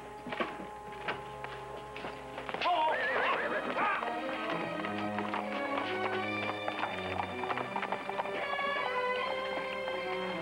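Horses whinny loudly and at length while hooves clip-clop steadily underneath, the neighing rising and wavering over a rhythmic clatter of steps close by.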